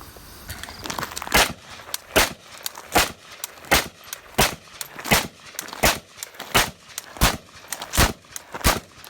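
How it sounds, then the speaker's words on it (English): Rifle shots from a RAS 47 fitted with a prototype Occam Defense rear sight tower, about a dozen sharp reports fired at a steady, slightly uneven pace, close and loud outdoors with no talking. "So we just ran some rounds through our new prototype of the Occam Defense rear sight tower for the RAS 47"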